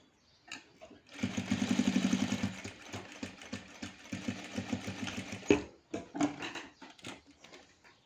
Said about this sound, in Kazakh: Үстінен қызыл матамен бастырып тігіп шығамыз.